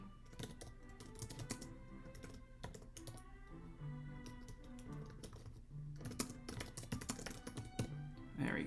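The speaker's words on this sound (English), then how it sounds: "Let me type that in." Keys clatter on a computer keyboard in a fast, uneven flurry of close, crisp taps with short pauses, and no talking.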